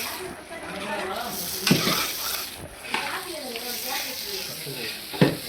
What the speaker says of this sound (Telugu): చికెన్ చూడండి చక్కగా ఉడుకుతుంది. చికెన్ గ్రేవీ, చికెన్లోకి గ్రేవీ తయారు చేస్తున్నాము. బాగా వేగుతుంది.